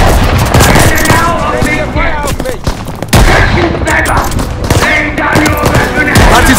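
Dense, loud bursts of gunfire from the Stalingrad battle in the WWII shooter Call of Duty Vanguard, with rapid volleys and booming impacts pressing close and nearly continuous, broken by a brief lull.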